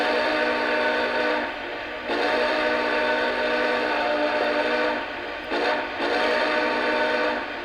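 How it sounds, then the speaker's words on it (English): A 2014 Vision-Line Big Boy model steam locomotive sounds its whistle through the front speaker only, a sustained tone blown in long blasts with brief breaks between them, heard alone with no talking. "So when I blow the whistle now, we are only going to get the locomotive whistle."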